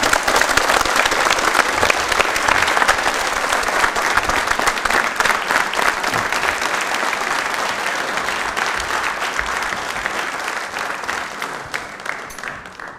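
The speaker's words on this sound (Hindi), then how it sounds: "तालियां बजा दीजिएगा" An audience at a televised quiz programme applauds a correct answer, with dense, loud, sustained clapping that slowly tapers over about thirteen seconds.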